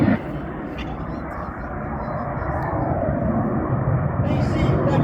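Red Arrows display jets flying at the Shuttleworth airshow, a steady broad jet roar that holds throughout and swells slightly toward the end, with a commentator talking over it on the public address.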